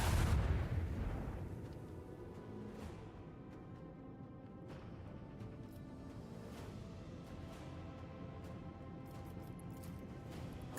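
Ship weapons, lance batteries among them, firing in the space game Warhammer 40k Rogue Trader, opening with a heavy booming blast that fades into a sustained rumble, with several sharper impacts and crackles scattered across the mix.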